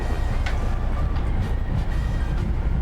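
Passenger train rolling into Gwangyang Station after merging with the Gwangyang steelworks line, a steady loud rumble of wheels on rail with faint squeals, heard from onboard.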